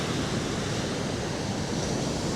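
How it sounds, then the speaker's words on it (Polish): Ocean surf on a public beach in Tahiti, a dense continuous wash of breaking waves, broad and steady, moderately loud with no voices. "Patrzcie, jakie fale."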